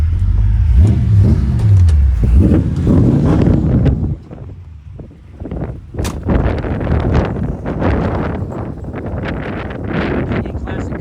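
A 1957 Chevrolet Bel Air two-door hardtop with a small-block V8 rumbles and revs up close outdoors, deep throaty bursts rising and falling, with wind buffeting the microphone and a voice speaking briefly.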